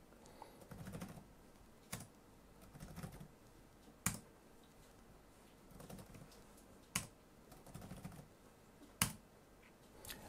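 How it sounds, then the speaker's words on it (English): Keystrokes on an HP 245 G8 laptop keyboard as a password is entered at a BIOS prompt: sparse, quiet clicks with a few sharper taps spaced about a second or two apart in a silent room. "So we're going to type in incorrectly a few times."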